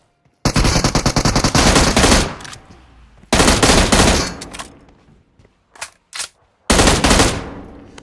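Automatic gunfire in a PUBG Mobile gunfight: loud, rapid bursts of machine-gun fire in three main volleys with short isolated shots between, close and dominant with no talk.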